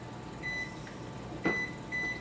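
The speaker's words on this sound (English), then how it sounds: "So I am going to set my timer" Three short electronic beeps from a kitchen timer sound at a steady interval over a low oven hum, with a brief clunk near the middle.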